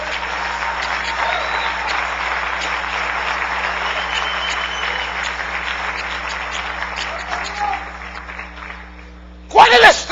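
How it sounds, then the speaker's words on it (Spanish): A congregation in a church service applauds with a broad, sustained wash of clapping under a faint steady hum, fading toward the end before a brief loud burst. "Denle un aplauso al Rey bendito."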